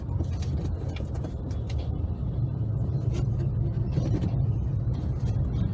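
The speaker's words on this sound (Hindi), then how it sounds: "रोड पे काफ़ी स्लो ट्रैफिक." Slow road traffic near the Dunlop Bridge area of north Kolkata, a steady rumble of engines and tires heard from inside a car, with scattered faint horn-like tones over the constant noise.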